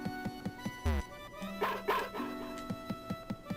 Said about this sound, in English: Is that why Boney's been barking and barking and barking?